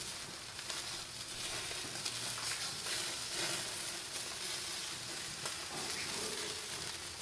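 A cheese-stuffed Juicy Lucy burger patty searing on a hot grill, a dense, even hiss and crackle of fat that stays steady and close throughout, with no voices.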